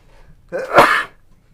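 A man gives a single sharp sneeze, a short breathy burst close to the microphone in a quiet room, preceded by a brief intake of breath.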